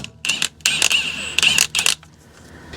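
Quick bursts of metallic clicking from a ratchet turning a 14 millimeter socket to remove a bolt on a Toyota Sienna during a passenger side CV axle replacement, several close, loud ratcheting runs separated by short pauses.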